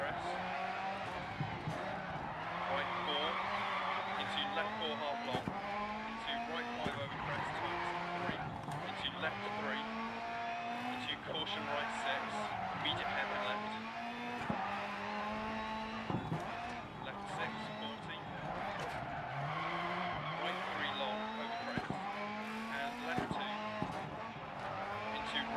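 A damaged rally car driven hard in DiRT Rally, with engine notes rising and dropping through gear changes and gravel and tire noise beneath, a voice talking throughout over the steady game audio.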